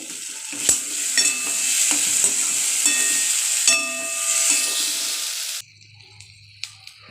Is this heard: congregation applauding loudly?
no